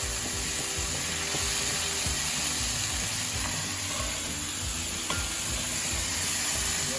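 Okra sautéing in a pan with gram flour for a South Indian bhindi bajji curry, giving a steady, even sizzle and hiss that holds throughout with faint stirring scrapes and no talk.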